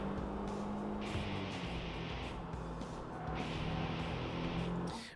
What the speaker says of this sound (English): The engine sounds are so quiet and muffled.